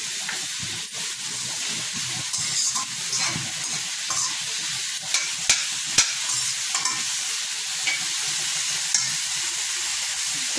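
Tomato pieces and tamarind frying in a pan for coriander chutney, with a steady broadband sizzle throughout and scattered scraping clicks of stirring, close and moderately loud, no talking.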